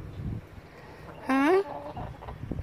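Backyard chickens call out near a garden fire pit, one clear rising cluck-like squawk standing out briefly over quiet outdoor ambience and faint background noise.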